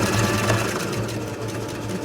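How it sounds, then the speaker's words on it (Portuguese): A sewing machine stitches fabric for a double-sided tote bag, running in a steady, close, fast mechanical whir with an even rhythm and no pauses. "E continuo a costura."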